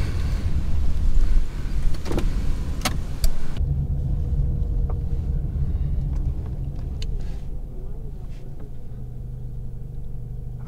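Steady road and engine rumble from a car driving through a small town, with a few brief clicks and knocks early on and a constant low hum throughout.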